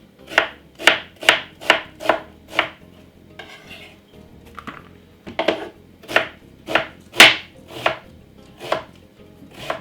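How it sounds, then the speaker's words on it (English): A knife chops white onion finely on a cutting board in two bursts of crisp, evenly spaced strokes, about six in each run, loud and close, with quiet handling noises in the pause between them. "Very finely cut up. And some white onion."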